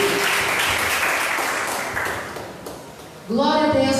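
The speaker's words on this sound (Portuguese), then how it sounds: "você que crê, já dê uma forte salva de palmas a Ele" Broadband clapping from a church congregation during worship, starting strong and tapering off over a few seconds, then giving way to sung or spoken voices at the end.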